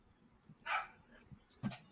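A dog barks a few times in the background, with a short burst early and another sharper one near the end, mid-distance and moderately loud, no talking over it.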